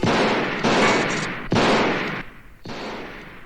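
Gunshots in the 1981 horror film Halloween II ring out in four loud, close reports spaced about half a second to a second apart, each with a long echoing decay.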